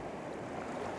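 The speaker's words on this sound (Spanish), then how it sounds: "Hay un remolino de agua bastante fuerte, como ustedes lo están viendo aquí." Strong swirling flood water rushes after a hurricane by a damaged roadside stretch, a dense continuous roar with no pauses, steady and fairly close, with no voices.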